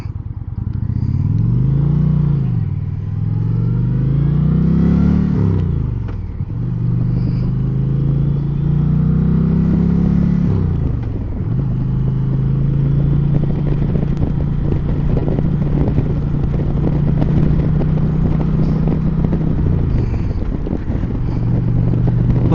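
An Indian Roadmaster motorcycle engine rumbles loudly and close while riding. Revs climb and drop through several gear changes, including a clunky shift from first to second, and there is no talk.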